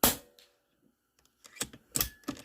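Several shots from a DAR GEN-3 .22 PCP air rifle, sharp close cracks with a metallic clink, the first alone and then a quick cluster of three or four near the end.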